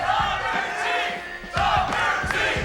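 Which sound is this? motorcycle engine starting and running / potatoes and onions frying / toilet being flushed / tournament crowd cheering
tournament crowd cheering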